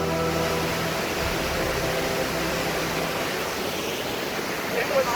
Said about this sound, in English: So we found a waterfall.